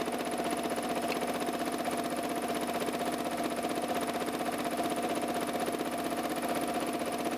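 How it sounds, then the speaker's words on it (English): A Janome Memory Craft 6500P sewing machine runs steadily while winding a bobbin, giving a continuous, even mechanical whir and hum with a fine rapid stitching rhythm throughout, moderately quiet and with no voices. "I can wind the bobbins while my machine is running"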